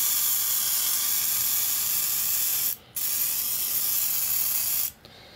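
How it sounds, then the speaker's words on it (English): Aerosol pump sprayer spraying, a continuous loud close hiss broken by two brief pauses, with no voices. "you put whatever you want in it, and you can pump it up. It aerosolizes it,"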